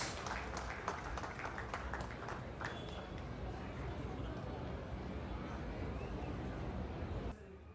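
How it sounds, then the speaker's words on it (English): A warm round of applause from a large audience at an event in Guwahati, Assam, steady dense clapping sustained for several seconds with crowd murmur beneath, dropping away near the end. "now amidst a warm round of applause"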